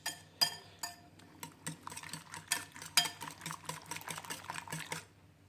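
Whisk or fork clinking rapidly against a bowl while omelette egg mixture is beaten, a steady run of close, bright metallic taps and stirs with no talking.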